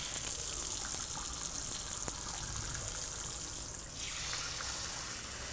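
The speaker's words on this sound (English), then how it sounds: "Going to use warm water to install." Warm water running steadily from a tap during a salon hair wash and scalp treatment, a close, continuous gushing stream that shifts in tone partway through as the flow is redirected, with no talk.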